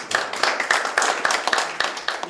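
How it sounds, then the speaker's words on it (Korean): Audience applause at a Seoul policy debate forum, with steady rapid clapping from a fairly close crowd filling the room alone, no voices over it. "큰 박수 부탁드립니다"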